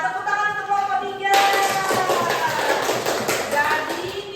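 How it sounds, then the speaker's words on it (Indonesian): A classroom group of children bursts into sudden applause for group 3, a dense clatter of many hands clapping that holds steady for a few seconds, with voices mixed in. "Tepuk tangan untuk kelompok 3."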